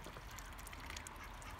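A runner duck quacks in short, fairly close bursts over a steady outdoor background.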